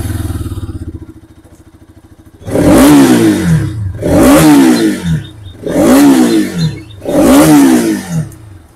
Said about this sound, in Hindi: RS में जो है भाई आपको इस तरह का साइड माउंटेड एग्जॉस्ट नोट देखने को मिलता है